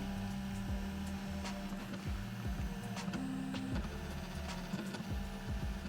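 A cheap beginner 3D printer runs its first build, with stepper motors whirring and whining in changing tones, short buzzing moves and a steady mechanical hum close by.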